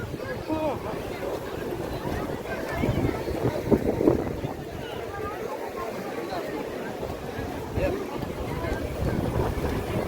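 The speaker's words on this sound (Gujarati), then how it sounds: "આ જો સમુદ્ર કિનારે દરિયાના મોજા પણ ઘણા આ બાજુ આવી ગયા પાણી" Sea waves wash onto the seashore beside a fair, a continuous rolling surge mixed with gusty wind buffeting the microphone and a faint crowd murmur.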